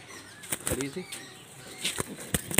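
A jiria pigeon in a loft flaps its wings in sharp repeated bursts while being caught by hand. The flutters are close and loud, with faint coos or voices between them.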